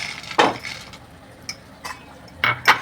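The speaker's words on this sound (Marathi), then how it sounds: "आता हे चांगलं हलवून आता आपण दमायला ठेवूया" A spoon knocks and scrapes in a pot of boiling sandge curry made with sun-dried lentil dumplings, giving several sharp, separate clinks with quiet bubbling between them.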